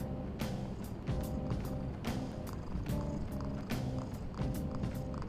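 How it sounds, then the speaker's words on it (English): A cat purring in the video game Persona 5 Royal, triggered by rubbing the controller touchpad: a steady, continuous low rumble lasting the whole stretch, with faint rhythmic pulses and a background music-like hum. "if you rub the touchpad, he purrs"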